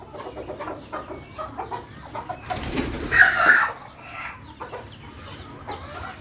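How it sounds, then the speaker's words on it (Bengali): Broody hens cluck in a poultry shed, several soft irregular clucks and calls close by, with a brief burst of wing flapping midway. "এই কোচা মুরগিগুলো ওর সাথে দিয়ে দিব।"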